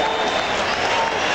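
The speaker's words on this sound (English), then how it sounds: "The crowd now rising to its feet all around Veterans Stadium" A baseball crowd at Veterans Stadium in Philadelphia roars and applauds loudly as it rises to its feet during a 1994 Phillies vs St. Louis game, a dense, continuous wash of cheering with a broadcaster talking over it.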